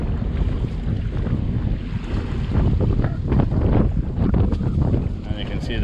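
Strong wind at Durban's North Pier gusts and buffets the microphone in a loud, rough roar, with ocean surf mixed in.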